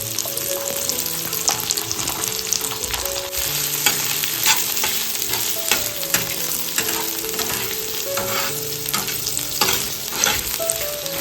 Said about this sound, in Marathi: इकडे तवा मस्तपैकी तापत ठेवलेला आहे आणि इकडे कढीपत्ता आणि कांदा घालून घेतलाय